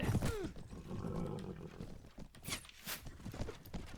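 Horses neigh and their hooves thud and clatter during a battle in the medieval combat game Mount & Blade Warband, a whinny up front followed by scattered hoof steps and clashing noise.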